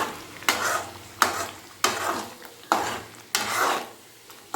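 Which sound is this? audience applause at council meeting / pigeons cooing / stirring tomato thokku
stirring tomato thokku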